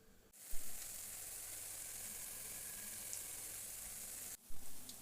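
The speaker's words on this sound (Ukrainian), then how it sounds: "смажимо на розігрітій сковорідці з двох сторін на маленькому вогні" Continuous hissing sizzle of semolina cheese pancakes (syrniki) frying in a heated pan over low heat, starting abruptly and cut off near the end, with a couple of soft thumps.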